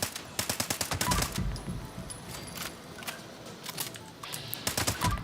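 An automated turret in the video game Fallout 76 fires rapid bursts of gunfire, loud and close, with short pauses between volleys and no speech.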